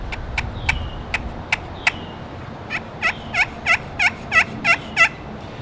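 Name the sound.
homemade turkey call imitating turkey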